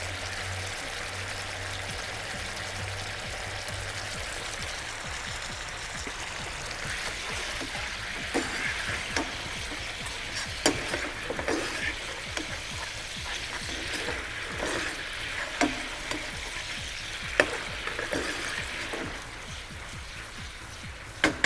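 Chilli chicken gravy bubbles and sizzles in a pan, a steady close simmer with occasional stirring clicks and pops, without talk.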